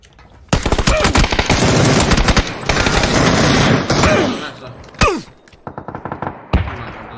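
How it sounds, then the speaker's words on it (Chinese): Rapid automatic gunfire from a battle royale shooter video game, loud, dense bursts of shots filling several seconds, then a few sharper single cracks and shorter volleys, with no talk over it. "听到枪声了没"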